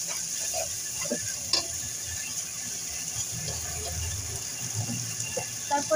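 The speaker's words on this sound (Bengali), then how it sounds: "এটা এখন ভালো করে একটু কষাতে হবে।" Curry being stir-fried in a pan, a steady low sizzle with scraping and stirring knocks scattered throughout, close and continuous with no talk.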